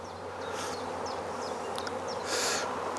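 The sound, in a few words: honey bees flying around an open hive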